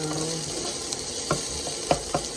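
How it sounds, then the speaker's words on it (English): Onions frying in oil in a pan give a steady soft sizzle, with a few light taps of a utensil against the pan, close and fairly quiet. "we let the onion cook"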